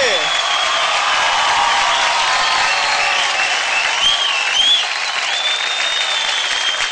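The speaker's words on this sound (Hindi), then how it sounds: "जोरदार तालियां हो जाए विवेक ओबेरॉय के लिए." Audience applause for a film actor's entrance on a televised dance competition, a dense, steady wash of clapping from a studio crowd that holds for about seven seconds. A little cheering lifts near the end.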